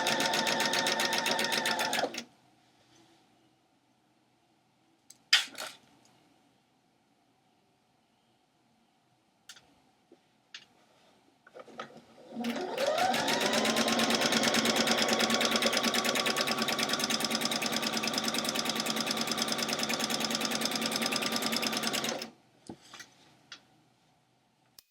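A sewing machine stitches and backstitches scarf fabric close by. A short run is followed by a quick burst, then a long steady stretch of fast mechanical stitching, with small clicks and handling noises in the pauses.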